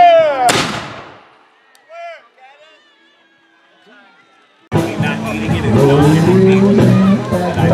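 At a country fair, a period muzzle-loading cannon is primed and fired. Brief voices and a quiet pause lead up to a sudden loud blast, followed by a sustained roar and echoing noise.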